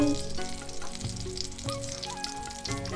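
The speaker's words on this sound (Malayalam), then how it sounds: "ഞാൻ ആ ഉലുവ പൊട്ടുന്ന സൗണ്ട് കേൾക്കാൻ ഇങ്ങനെ കാത്തിരുന്നു" Fenugreek seeds crackling and popping in hot oil inside a miniature clay pot while cooking beef curry, giving a steady close sizzle with scattered sharp little pops throughout, no voices.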